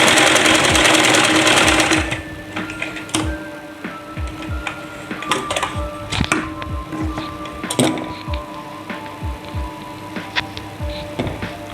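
A sewing machine stitches a salwar waistband in rapid, steady mechanical ticking bursts that start and stop, close and clear, following a short stretch of loud hiss at the start.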